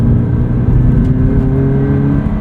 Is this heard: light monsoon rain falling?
no